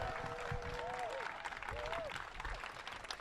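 Crowd applause at a campaign rally in Toronto's Davenport riding welcoming the Prime Minister of Canada, fairly faint steady clapping with a few tonal whistles or cheers mixed in.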